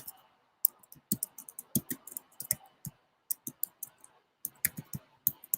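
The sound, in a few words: typing a search on eBay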